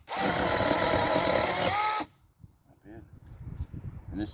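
A compact TARANZY 6-inch cordless battery chainsaw buzzes loudly and steadily for about two seconds cutting through maple, then stops abruptly, leaving someone talking quietly.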